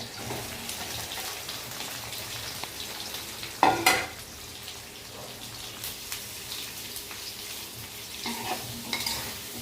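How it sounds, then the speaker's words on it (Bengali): Chopped garlic, ginger, chilli, onion and capsicum fry in hot oil in a pan with a steady close sizzle, and a loud clatter of stirring breaks in once near the middle. "এবার এটাকে ভালো করে আমরা ভেজে নেব।"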